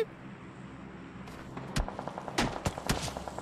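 Gunfire in the mobile battle-royale game PUBG Mobile, a few sharp cracks and short bursts arriving after a quiet stretch, moderately loud over a low background rumble.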